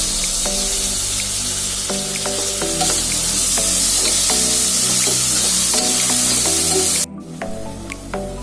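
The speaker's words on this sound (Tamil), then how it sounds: "கறி நல்லா வதங்கிடுச்சு. இப்போ தக்காளி விழுது சேர்த்துக்கலாம்." Goat head meat frying loudly in a pan as tomato paste is added, a dense close hiss and sputter with background music that quiets near the end.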